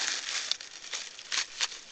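Dry crinkling and crunching, close up, in a steady run of small snips and rustles as brittle leaves are cut with scissors.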